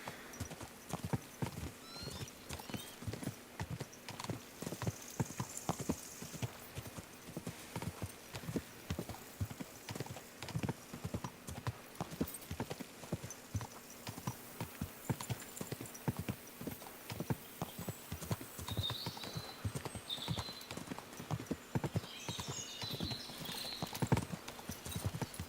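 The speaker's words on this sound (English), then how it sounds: "Go horsey, go horsey, go." Horse galloping in the video game Kingdom Come: Deliverance II, a steady rapid clip-clop of hooves running throughout with an occasional neigh, over faint ambient game sounds and no talk.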